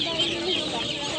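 A rooster clucks and calls among other fowl at a busy poultry market in Sokuluk, with a dense, fairly loud flock chatter filling the short stretch and no clear speech.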